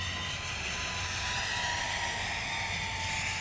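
XFly C-17 Globemaster radio-control jet with four electric ducted fans flying at full throttle, giving a steady whining roar that holds at the same level throughout, with no talk.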